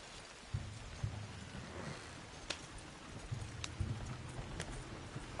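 Horse hooves clip-clop on a road in Red Dead Redemption 2, a steady walking rhythm of close thuds over a bed of rain and distant rumble, no speech.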